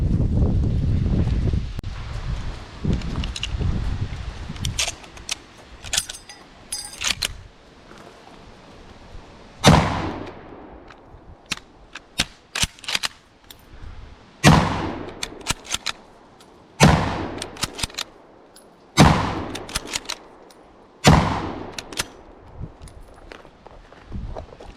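A Chinese Type 53 bolt-action rifle with attached folding bayonet is fired outdoors, about seven loud sharp shots spaced a couple of seconds apart, each with a decaying echo, amid wind noise and rustling between shots.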